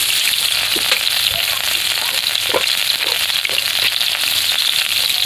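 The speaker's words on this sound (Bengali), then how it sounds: "এবার আমি মশলা কষানোর জন্য কড়াই সরষের তেল দেবো অল্প করে" Mustard oil sizzles and crackles in a kadai as spices are fried for a koi fish and bottle-gourd-greens curry, a loud, steady hiss close up with occasional stirring clicks.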